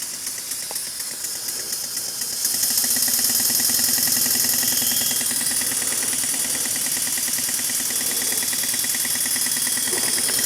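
A homemade model engine runs steadily, a fast, even mechanical chuffing with hissing that starts quieter and then grows louder and continuous, close by and without talk.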